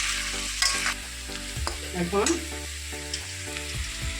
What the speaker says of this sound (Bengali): বিনসটা ভেজে নেব একটু